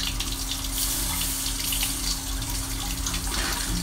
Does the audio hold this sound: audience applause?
no